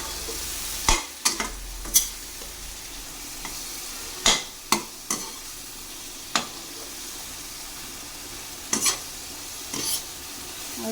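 Chicken curry with chilli powder sizzles steadily in a pan under a low hiss, with sharp spatula knocks and scrapes at irregular intervals, close and clear, with no voices.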